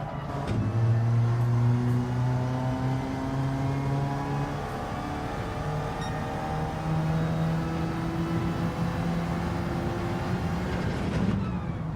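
Race car engine in a racing video game, loud continuous drone rising and falling with throttle and gear shifts, sustained tonal whine filling the whole stretch, no voices.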